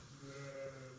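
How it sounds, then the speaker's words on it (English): Sheep bleating in a farm setting, a single sustained, wavering bleat lasting about a second, fairly close and clear with no talk over it. "That's Ricker sheep."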